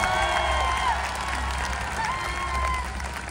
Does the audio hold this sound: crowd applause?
yes